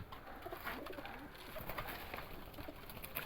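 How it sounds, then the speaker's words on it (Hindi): A red-eyed Kasuri pigeon coos faintly in Lahore against a noisy, hissy background, its soft low calls barely rising above the ambient clutter. "ये कबूतर देखें जी, लाल आँखों का कबूतर है, कसूरी प्योर हालत में।"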